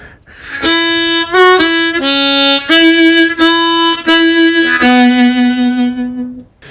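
A harmonica plays a phrase of the old-time tune "Going up to Hamburg": a close, solo run of bright, reedy notes, some short and some held, ending on a long sustained low note.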